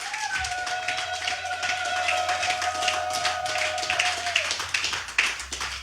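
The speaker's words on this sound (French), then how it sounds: "acclame maintenant pour Jésus" A church congregation at a French-language sermon claps and applauds for Jesus. Dense, close applause runs throughout over a held organ or keyboard tone, with a brief voice at the start.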